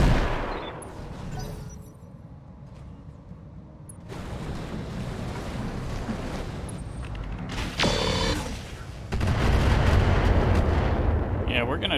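Heavy weapons fire and booming impacts in the BattleTech mod Roguetech, loud and dense with rumbling explosions and mechanical clatter, swelling in repeated salvos across the stretch, with a voice talking partway through.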